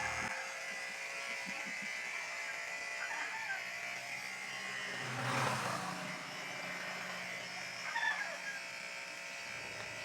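An electric hair clipper hums in a steady, close buzz throughout a men's mullet haircut, with faint handling noises and a slight swell in the middle.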